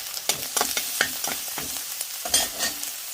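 Onion, chopped ginger and garlic fry in hot oil, a close, bright sizzle broken by a quick run of spatula taps and stirring scrapes.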